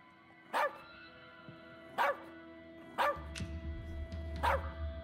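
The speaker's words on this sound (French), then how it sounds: "C'est un chien, gros malin." In As Dusk Falls, a dog lets out four loud, evenly spaced barks roughly a second apart over a low background rumble.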